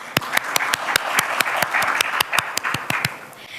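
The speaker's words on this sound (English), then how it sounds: "A huge round of applause for AAPI." Audience applause after a global health care speech honouring the AAPI organisation: a steady, dense wash of many hands clapping at once, with sharp individual claps standing out throughout.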